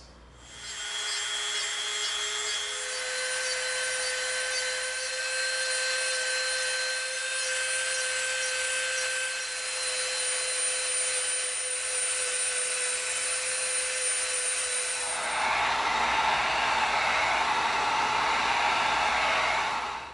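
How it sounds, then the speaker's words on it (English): Dremel rotary tool beveling the edge of EVA foam, a sustained high-pitched motor whine that changes to a louder, coarser grinding tone toward the end, with no speech. "we're going to get our Dremel out, and we're going to do a bevel around this piece"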